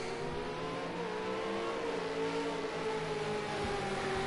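Race cars in an eSports Supercars racing game at Dubai Autodrome drone loudly and continuously, engines holding a high sustained pitch with layered revving as several cars pass together, no talk over them.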